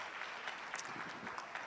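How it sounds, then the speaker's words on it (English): Faint, distant audience applause at a hospital panel discussion, a steady wash of many hands clapping as a speaker is welcomed. "let's give her a round of applause and welcome her"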